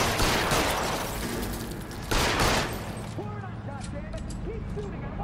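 In a shootout in the LA Noire video game, a burst of loud, close gunfire rings out at the start and again around the middle, with game voices shouting over it and a quieter tail.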